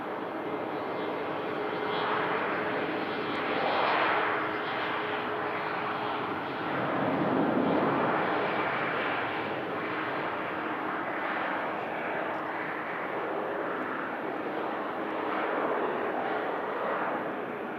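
An airliner departing Manchester Airport for Vienna on a windy morning, its engines giving a sustained, distant broadband roar that swells and fades gently in waves.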